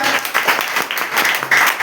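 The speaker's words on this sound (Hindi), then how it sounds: "एक जोरदार ताली आपके लिए हो जाए।" Loud, dense applause from an audience at a talk, continuous clapping throughout with no pauses.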